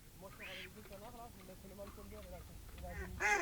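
Mallard ducks quack and honk in a rough, repeated series at moderate distance during a nighttime duck hunt, with a louder call near the end and speech mixed in.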